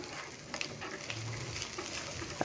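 Ginger garlic paste fries with browned onions in a pan, a close steady sizzle broken by light stirring scrapes and small clicks.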